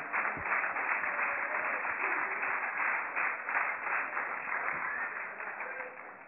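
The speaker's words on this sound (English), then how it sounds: "let's give God a round of applause" A church congregation gives a sustained round of applause, a dense, steady wash of clapping lasting several seconds before tapering off, sounding somewhat muffled and narrow.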